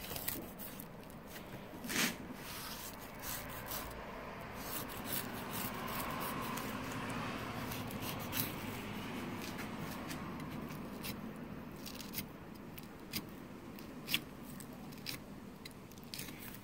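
A knife slices through a surf perch during filleting, making soft, close, irregular cutting and scraping sounds over a low background hiss, with occasional small clicks.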